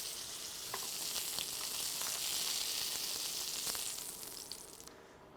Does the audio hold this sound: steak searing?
yes